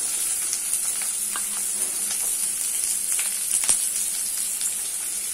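Onions sauté in hot oil with mustard seeds and urad dal for soya chunk podimas, giving a steady close sizzle throughout with scattered light clicks and scrapes of stirring.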